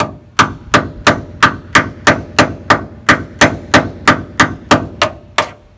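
Hammer strikes knocking a cut washer off a stuck bed bolt on an F350 pickup bed, about fifteen sharp metallic blows in a fast, even rhythm, loud and close with no talking.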